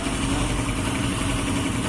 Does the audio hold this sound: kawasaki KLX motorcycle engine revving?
yes